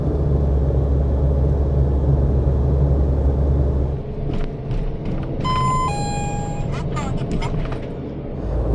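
A Daihatsu Hijet Cargo kei van pulls away, its low engine rumble and road noise steady throughout, with a brief electronic chime partway through; no one speaks.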